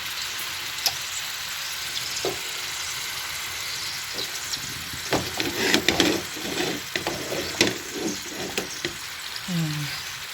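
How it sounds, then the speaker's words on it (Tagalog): Ground meat frying in a little oil for soup, a steady low sizzle with scattered scraping and stirring knocks, close by and moderately loud, with a brief voice near the end. "Piniprito yung giniling. Piniprito ko ng sa konti lang yung mantika na yun."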